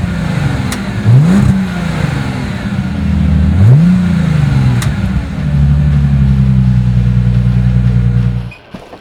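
A 2005 Bentley GT's W12 twelve-cylinder engine revs twice in sharp swells, then settles into a loud, steady high idle before cutting off abruptly at the end.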